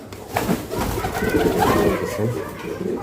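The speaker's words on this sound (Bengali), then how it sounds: "মাশাআল্লাহ কবুতরগুলার অনেক চমৎকার কবুতর।" Fancy pigeons at a pigeon farm in Bangladesh coo and rustle in a close, continuous flock murmur, with soft throaty calls overlapping throughout.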